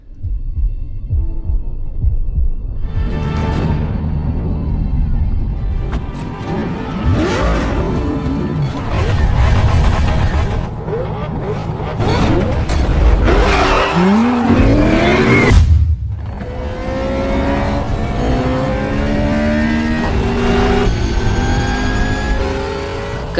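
Supercars, among them a McLaren P1, accelerating off the start of a street race, a deep thumping engine drone building into rising revving sweeps and gear-change whines, loud and close, with no voices.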